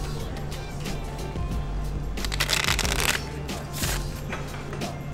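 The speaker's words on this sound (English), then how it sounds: "I'm going to give it another shuffle." A deck of playing cards being shuffled at a poker event, a quick riffling burst in the middle over a steady low hum of room noise, followed by a few fainter card sounds.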